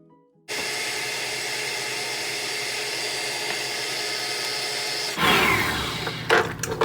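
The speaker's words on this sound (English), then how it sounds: "I'm just going to beat this together until it's fluffy." An electric mixer beats double chocolate chip cookie dough with melted chocolate, producing a steady, loud motor whir for about five seconds before it shifts into rougher scraping and knocking.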